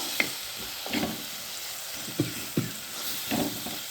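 Chopped tomatoes stirred through a sizzling pan for Kerala-style fish mappas, with steady frying hiss under scattered scraping and tapping strokes of a spoon against the pan, close and fairly quiet, with no talking.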